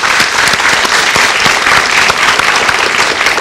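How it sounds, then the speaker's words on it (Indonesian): Audience applause at an Indonesian talk show on insomnia and sleep problems, steady dense clapping from a crowd throughout, loud and continuous with no talk over it. "beri tepuk tangan"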